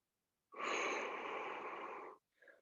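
A single long exhale during a light hamstring stretch in a live boot camp class, a steady breathy rush lasting under two seconds and close up, followed by a short faint breath.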